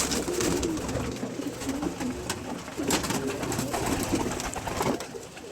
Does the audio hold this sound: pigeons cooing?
yes